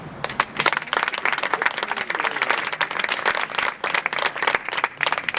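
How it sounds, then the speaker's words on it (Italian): Applause from an audience at a civic coming-of-age ceremony for eighteen-year-olds in Besozzo, a steady dense clapping that fills the space close and loud without voices. "Applausi."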